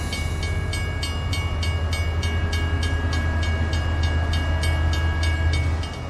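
A train rumbles at a railway station with a low, steady roar and regular rhythmic clacking of wheels. A faint tonal whine runs through the sound, and no one speaks.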